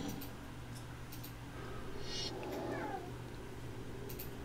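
A cat meows in a short, soft, wavering call amid a low background hum, fairly faint and alone without talk.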